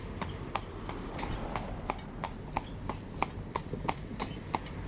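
A solid work pony's hooves clip-clop on a town street amid traffic, a steady, even rhythm of sharp hoof strikes over a low rumble of passing vehicles.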